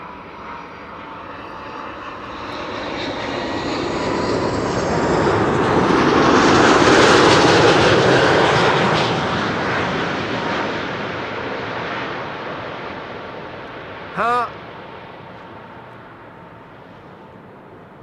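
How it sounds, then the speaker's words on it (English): An Air China Cargo A330-200 arrives at Amsterdam Schiphol, its engine roar swelling gradually from moderate to loud as it passes close, then fading slowly, with a brief tonal blip near the end. "Air China Cargo up next, arriving from Chengdu in China. A330-200"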